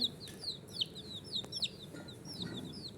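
Chicks playing in a tub give repeated soft high peeping and clucking calls in quick irregular bursts over a low background rumble.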